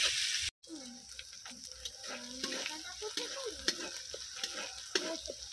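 Ginger-garlic paste sautéing and being stirred in a pan for an egg dish, a steady close sizzle with scraping stirs throughout after a brief drop at the start.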